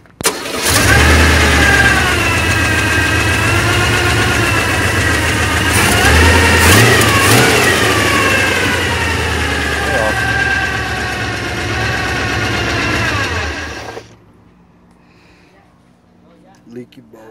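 A car engine with freshly tuned carburetors cranks, catches and idles loudly and roughly for about fourteen seconds, rising briefly before cutting off.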